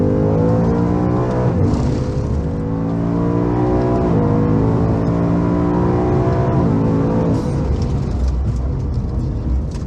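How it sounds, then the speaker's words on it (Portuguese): A Ford Mustang Mach I with a naturally aspirated V8 revs hard on a race track at Velo Città, loud and close, its engine note climbing through repeated gear pulls and steady throttle, with no talk over it. "essa rotação 7 pau no V8 aspirado é uma loucura"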